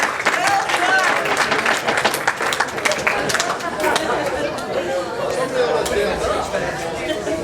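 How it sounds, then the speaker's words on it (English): Applause and cheering chatter from wedding reception guests after the toasts, a busy crowd clapping with voices mixed in, fairly loud and continuous throughout. "Some round of applause for all of our toasters tonight."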